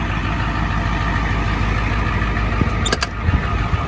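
A Ford F-250 with the IDI diesel engine and five-speed runs steadily nearby, a continuous low engine drone with a few brief clicks and knocks toward the end.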